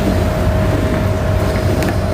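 Motorcycle engine droning steadily beneath heavy wind buffeting, a continuous low hum with a constant tone, close and even for the whole stretch.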